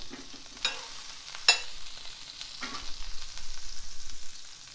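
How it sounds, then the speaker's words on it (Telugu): Halved pav buns are pressed into melting butter on a hot pan, giving a faint, low sizzle with a few soft clinks and a gentle rustle toward the end. "బటర్ కరుగుతున్నప్పుడు మనం దీన్ని ఇలా ఓపెన్ చేసేసి ఇలా పెట్టేసి కాల్చుకోవాలి"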